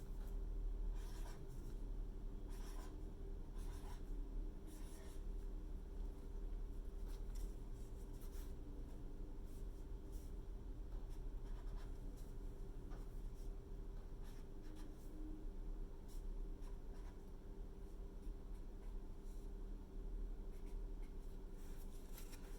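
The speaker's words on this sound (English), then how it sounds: "I'm going to write these out really quick." Pen or pencil scratching on paper while music notes are written out by hand, faint and close with short strokes repeating over a low steady room hum, no one speaking.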